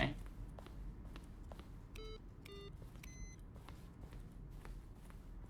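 Short electronic beeps from The Stanley Parable video game, three or four clipped tones in quick succession midway through, over a steady low background hiss.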